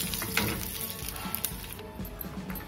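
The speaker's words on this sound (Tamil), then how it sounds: "துவையில தாளிச்சிக்கலாங்க. கடுகு உளுத்தம் பருப்பு" Mustard seeds and urad dal tempering in hot oil for a mango dal thuvaiyal, giving a steady close crackling sizzle with small pops throughout.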